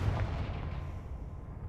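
Confringo, an explosive spell, is cast in the video game Hogwarts Legacy. A low, booming blast rumbles and rolls on for nearly two seconds with no pause.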